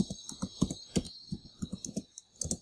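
Keys tapped on a computer keyboard to enter a command at a desktop command prompt, a quick irregular run of close, crisp clicks lasting a few seconds with no talking.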